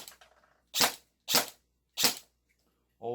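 A VFC (Cybergun OEM) SIG MCX electric airsoft rifle fired in single shots gives three sharp, loud, evenly spaced cracks, with a fourth starting at the very end and faint handling clicks before them.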